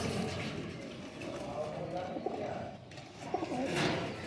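Soft cooing from breeding pairs of pigeons comes through faintly, a few low calls rising above a quiet background with some talk nearby.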